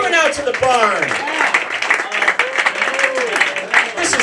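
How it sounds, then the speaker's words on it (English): Comedy club audience in a barn in Maine clapping and cheering after a stand-up set, a dense, steady patter of many hands with voices mixed in throughout. "Give yourselves a round of applause for coming out to the barn."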